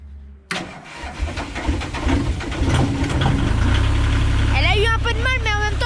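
A 3.5-tonne mini excavator's diesel engine cranks and catches in the cold after sitting unused, then settles into a loud, steady, rough idle, with a brief voice near the end.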